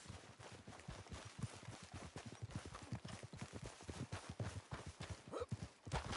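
Horse hooves clip-clop in Red Dead Redemption 2, a quick rhythmic run of soft thuds heard close and fairly quiet, with faint game ambience beneath and no talking.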